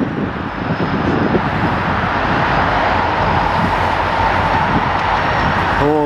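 A loud, steady diesel roar and rumble of four freight train locomotives rolls past close by, continuous and unbroken for several seconds.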